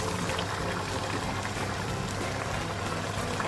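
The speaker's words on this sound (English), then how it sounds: "my pasta, if you can see, it's still boiling over there" A pot of pasta boils steadily, a dense bubbling hiss that fills the clip evenly without pauses or voices.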